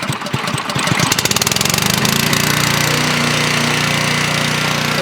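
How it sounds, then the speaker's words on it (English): A gas pressure washer engine on a pressure washing skid sputters through a few uneven pulses, then settles into a loud, steady, close-up running drone. "Whenever you get done running your pressure washer"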